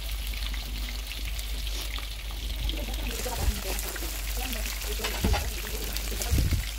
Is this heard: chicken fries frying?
yes